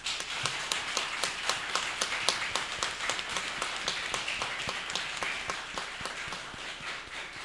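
Fairly quiet rhythmic clapping from a small group at a municipal council session in Cornélio Procópio, sharp individual claps repeating steadily throughout, heard from some distance.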